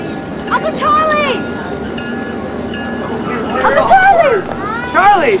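A passenger train pulls into a small-town station with a steady rumble and rail noise, while excited voices call out over it.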